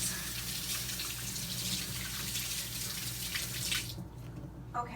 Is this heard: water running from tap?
yes